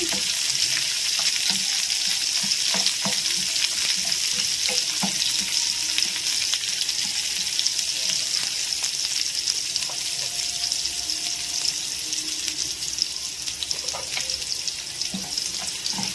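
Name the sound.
frying red onion and dried red chilies in oil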